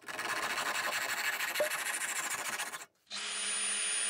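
Screws are driven into a plywood piece that steadies the block of a workbench vise, with a steady, loud power-driver whir that cuts out briefly and then resumes at a higher pitch.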